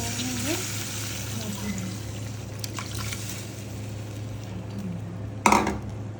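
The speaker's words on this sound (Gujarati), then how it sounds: "હજુ હું બીજું પાણી નાખીશ અંદર." Water poured from a bowl into a pot of moraiyo (barnyard millet) khichdi on a gas stove, a steady close hiss and trickle running throughout, with a brief louder splash near the end.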